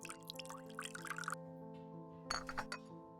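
Hot water pours with glassy clinks and small drips into a cup while an Americano is made in a video game, the brief clinking bursts sitting over a steady musical background hum.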